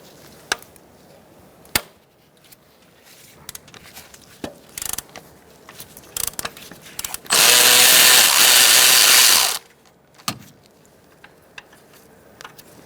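A 15mm bolt on a 2000-2007 Ford Taurus 3.0L V6 alternator comes loose under a power tool: scattered tool clicks and clanks, then a loud, continuous whirring burst of about two seconds, then more light clicks.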